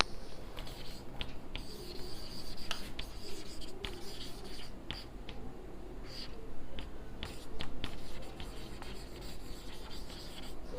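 Pen or pencil writing out an English grammar example sentence on paper or a board, a steady close scratching and rubbing that runs continuously with short pauses between strokes, no talk over it.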